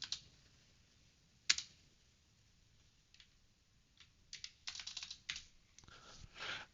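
Quiet, close typing on a computer keyboard, a sharp click near the start followed by short scattered bursts of keystrokes, with no talk.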